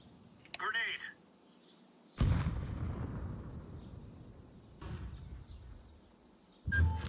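A grenade goes off in the video game Counter-Strike 2 with a heavy, booming blast that decays over a couple of seconds. Other sharp game effects and further booms follow, and a voice speaks briefly over it.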